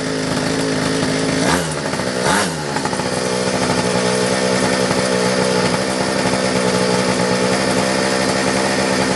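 A restored mini motorbike engine runs loud and close with a continuous buzzing drone, dipping briefly around the two-second mark before holding steady.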